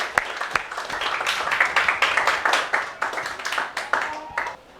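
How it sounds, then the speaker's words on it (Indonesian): A classroom full of people claps steadily for several seconds, a dense patter of hands that tapers off at the end. "kita beri tepuk tangan kembali untuk kelompok 6"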